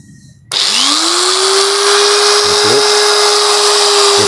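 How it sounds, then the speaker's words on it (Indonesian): An angle grinder spins up with a sharp start and holds a steady, loud high-pitched whine, close by, with a brief wobble near the end. "Kita nyalakan gerindanya dulu."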